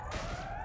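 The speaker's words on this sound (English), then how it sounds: "I hear the sirens, but nothing's going on." Sirens in the space game Elite Dangerous, a steady electronic tone sliding slowly downward, sustained and fairly faint for under a second with no talk over it.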